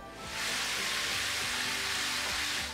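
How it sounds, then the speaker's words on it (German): Pieces of meat sear at high heat in oil in a deep pan, a steady, even sizzle that swells after a brief quieter start and then holds without a break, with no talk. "Diese bei hoher Temperatur so für ca. 5 Minuten anbraten"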